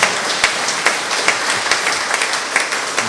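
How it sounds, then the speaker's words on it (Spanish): A congregation at a church mass applauds with steady, rhythmic clapping that stays fairly loud throughout the brief stretch, with no talk over it. "Aplauso para o Senhor."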